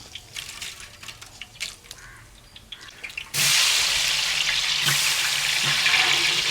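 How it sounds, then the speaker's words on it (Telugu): Cinnamon, cardamom and cloves hit hot oil for a village-style Andhra mutton biryani, bursting into a loud, steady sizzle that runs on unbroken after scattered clinks and light kitchen noise. "ఆ స్పైసెస్ అన్నీ వేగిన తర్వాత"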